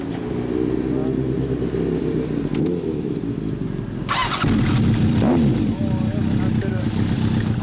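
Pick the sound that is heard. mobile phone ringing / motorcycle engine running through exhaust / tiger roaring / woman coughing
motorcycle engine running through exhaust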